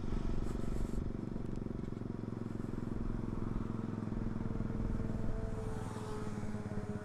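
Motorcycles, including a Kawasaki ZX, ride on a street during a Sunday morning group ride, their engines droning continuously and close by with a low rumbling throb and passing traffic noise.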